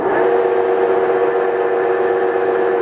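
A 16-inch Blanchard 11-16 rotary surface grinder with its wheel running, giving a steady, loud mechanical hum with a constant tonal whine that holds level throughout, with no voices.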